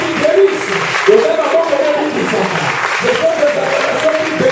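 A church congregation fills the room with clapping and loud acclamations, a thick, even crowd noise of hands and many voices calling out, holding steady for several seconds.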